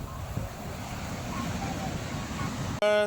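Sea water washes up onto the shore on a hot day with a steady, close hiss of surf and wind buffeting the microphone, then breaks off abruptly into a short, loud, buzzing tone.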